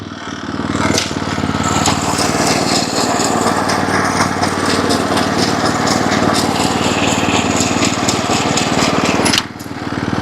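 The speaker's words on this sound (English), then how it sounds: "So yeah, I'm mowing my putting green pretty much" A lawn mower runs loud and steady at close range while cutting a home putting green, its engine droning continuously before cutting off abruptly near the end.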